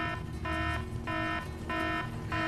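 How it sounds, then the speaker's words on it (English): A stock alarm sound effect from a movie set in Mexico City, 2000: a harsh, buzzing electronic tone blaring in repeated bursts of about a third of a second with short gaps, loud and steady, with no voices over it. "when she gets to the border, this stock alarm sound plays"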